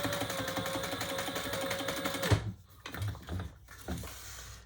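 A sewing machine stitching down the sides of a pouch, a fast steady mechanical whir for about two seconds that then stops, followed by a few quieter clicks and short bursts of handling.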